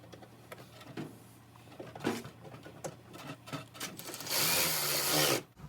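Bolts are driven back in with a power tool while reinstalling 10mm fender bolts on a 2004–2009 Toyota Prius, with short whirring bursts and clicks close by, then a longer loud whirr near the end.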